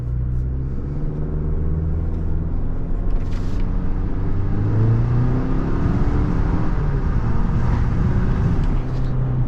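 A 2023 GMC Canyon pickup with an 8-speed automatic accelerates while driving, its engine giving a steady, loud rumbling drone that builds gradually over road and wind noise throughout.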